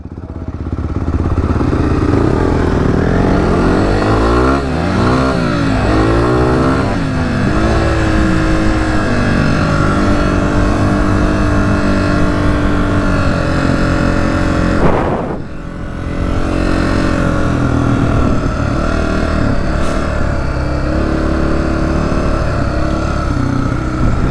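A Honda CRF250F dirt bike ridden through Arizona desert sand, its engine loud and close, held at high revs with rising and falling throttle swells and a brief dip midway, no talking.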